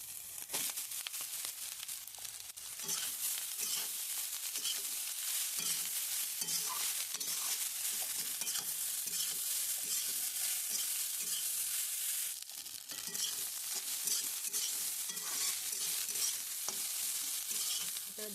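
Rice with eggs and soybean is stir-fried in a pan on a chulha, a loud steady sizzle layered with rapid scraping and tossing strokes, a short lull midway, no voices.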